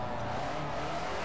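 Stock 4AGE engine of a Toyota AE86 Sprinter Trueno in Forza Motorsport 4, a steady loud drone of engine noise that holds constant through the short stretch with no clear rise or fall in pitch.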